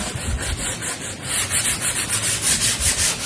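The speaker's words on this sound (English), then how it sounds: "I'm not sanding really super hard" Steady rhythmic sanding strokes on the first painted coat of a canvas prepared for oil painting, with light pressure: a rough back-and-forth rasp repeating about every quarter second, close and alone with no talking.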